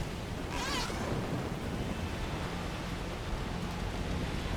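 Steady, even rain hiss fills the scene in the video game Horizon Forbidden West, a continuous broadband wash with a brief high chirp near the start and no talking.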